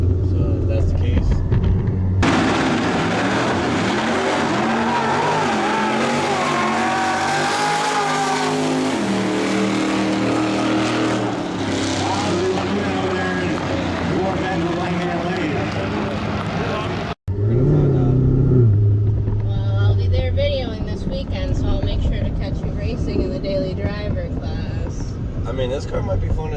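A 1000+ horsepower Z06 Corvette roars hard under acceleration, its loud engine note climbing through gears with a rough rumble and tire noise, heard from inside the car, briefly cutting out before resuming under people talking.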